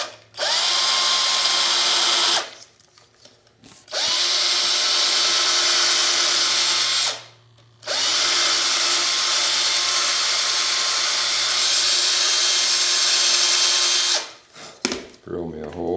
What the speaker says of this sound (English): drill me a hole